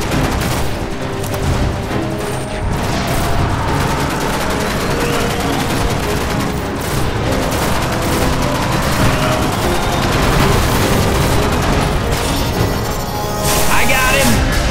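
Dense gunfire and explosions from the Destiny video game roar almost continuously, loud rapid shots and booms layered with shouted voices throughout.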